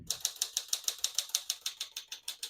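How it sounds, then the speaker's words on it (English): A 1955 Smith-Corona Silent-Super portable typewriter types a rapid, even run of about fifteen crisp key strikes, close and alone. "As you can see, all the keys type nice and none of them skip or stick."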